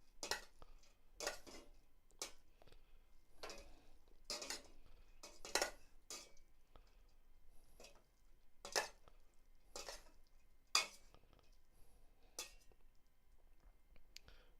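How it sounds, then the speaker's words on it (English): Utensil mixing Mee Goreng noodles with bean sprouts in a pan, about a dozen sharp, separate clinks and scrapes spaced irregularly over a quiet background, close and fairly soft, with no talking. "Let's mix the noodles."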